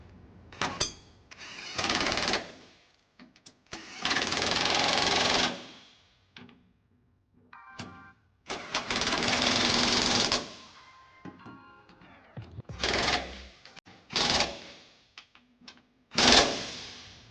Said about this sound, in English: take our impact and a 19mm socket with a 5-inch extension and just snug them up